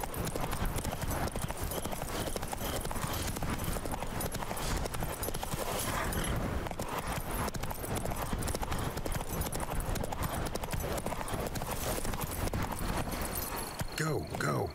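Horse hooves clip-clop continuously at a steady galloping rhythm in the video game The Witcher 3: Wild Hunt, Blood and Wine expansion, close and constant, with a person talking over them.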